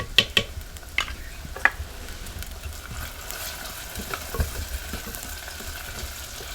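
Crushed ginger dropped into a hot pan for a green-masala eggplant curry, giving a steady soft sizzle and fry hiss with a few sharp clinks of stirring near the start.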